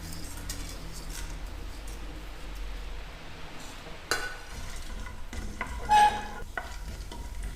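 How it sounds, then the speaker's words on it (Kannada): Fennel, cinnamon, cloves, cardamom and peppercorns frying in hot oil, a soft steady sizzle with a few brief scrapes and clinks of a spoon in the pan, close by. "ಸ್ವಲ್ಪ ಫ್ರೈ ಮಾಡಿಕೊಂಡ್ರೆ ಸಾಕು,"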